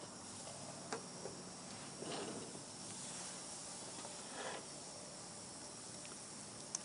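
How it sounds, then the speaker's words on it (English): Brat kabobs sizzle on a hot grill preheated to medium-high, a steady, fairly quiet hiss with occasional soft pops and crackles rising briefly above the constant frying sound. "I love that sizzle."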